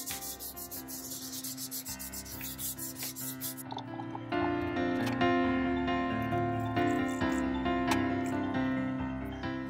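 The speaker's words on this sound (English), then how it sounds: "What I'm going to start with is cleaning this up with some rubbing alcohol." A cloth soaked in rubbing alcohol is rubbed over a Pentair Intelliflo pool pump's LCD screen on a workbench, making steady close scrubbing strokes that grow stronger partway through, over a faint constant tonal hum.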